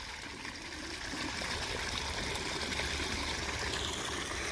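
Irrigation water flows steadily from a motor-pumped pipe into a wheat field, a constant broadband rushing and trickling that holds an even level throughout, with no voices.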